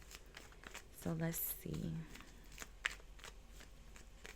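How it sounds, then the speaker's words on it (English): Tarot cards are shuffled close by in a couple of quick riffling bursts, with soft rustling between them, while a single voice speaks briefly over the sound. "forward through the shuffling to where I pull the first card"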